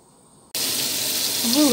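Pieces of flour-dredged flounder hit hot oil in a frying pan on a gas stove, a sudden loud sizzle that settles into steady hissing with a kitchen extractor hood running; a brief voice-like tone rises near the end.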